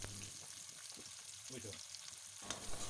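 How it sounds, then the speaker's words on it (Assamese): Finely chopped onion and three green chillies sizzling in hot oil seasoned with panch phoron, a steady close hiss with occasional scrapes and clinks of stirring. "পিঁয়াজ আৰু জলকীয়াখিনি প্ৰায় 1 মিনিটমান সময় ভাজিলোঁ"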